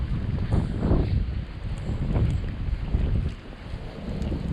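Strong, gusty wind roars through a February snowstorm with sideways snow, buffeting the microphone in a loud, continuous rush that swells and eases.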